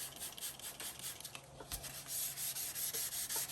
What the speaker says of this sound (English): so we hit it with a 600 grit sandpaper. Went ahead and sanded down that layer of oxidation.